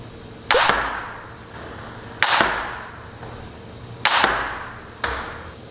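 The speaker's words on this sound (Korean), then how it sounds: "드라이브 같은 경우는 조금 소리가 나더라도 약간 둔탁한 소리가 나게끔 드라이브를 하셔야 됩니다" Table tennis forehand drive strokes, four distinct sharp ball hits spaced irregularly about one to two seconds apart, each with a short ringing decay, close by and fairly loud with no talking.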